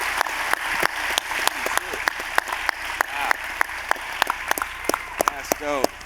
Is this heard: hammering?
no